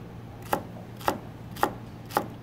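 Four evenly spaced knife chops through fish chowder ingredients on a cutting board, cutting them into half-centimetre pieces; crisp close thuds at a steady rhythm over a quiet room hum, with no talking.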